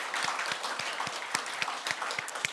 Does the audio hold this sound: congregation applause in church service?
yes